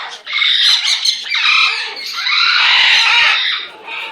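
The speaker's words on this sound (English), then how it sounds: "Love that bird." A pet bird named Romy gives loud, harsh squawks and shrill calls close to the microphone, several bursts running nearly continuously with brief dips between them.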